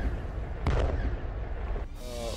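A NATO-supplied howitzer fires a shell in the Russia–Ukraine war, one sharp booming blast with a rumbling tail, followed by a second sharp report near the end.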